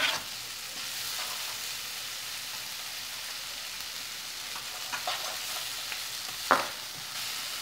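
Cheese and flour being stirred into a potato gratin mixture in a pan, a soft continuous sizzling hiss with occasional light scrapes and one sharper clink near the end.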